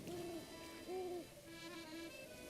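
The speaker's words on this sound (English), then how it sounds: "Got some birds circling overhead" Birds calling in the video game Breath of the Wild, a few soft hooting, owl-like notes spaced out in a slow rhythm, faint and distant against a quiet background.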